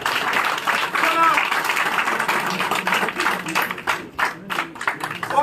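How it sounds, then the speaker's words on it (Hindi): Steady applause from an audience at a party office induction ceremony for a politician joining the BJP, dense clapping that thins slightly toward the end, with voices underneath. "जोरदार तालियों के साथ"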